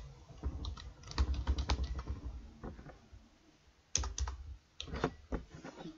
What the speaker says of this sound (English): you type in name again.